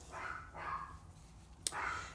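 An upset dog barks in the background, a few faint, muffled barks heard from a distance in an otherwise quiet room.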